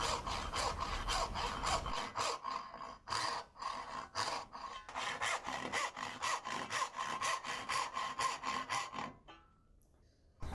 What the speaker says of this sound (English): Now with those all laid out, I can start sawing my pins.